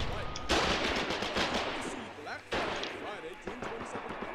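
Rapid bursts of gunfire echo through a battle in the war game Foxhole, with repeated sharp shots and volleys at moderate distance, mixed with voices talking over the fighting.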